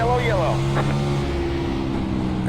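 Race cars take the green flag at Martinsville in a racing video game, engines droning together with a rising upshift whine over a low rumble, heard under a commentator's voice.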